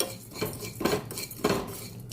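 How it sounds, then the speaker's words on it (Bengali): Whole spices (cloves, black peppercorns, white cumin seeds and a little fennel) dry-roast in a pan for dalma, stirred in three distinct scraping strokes, the spoon rasping and clinking against the metal at close range with no talk. "ড্রাই রোস্ট করে নিচ্ছি।"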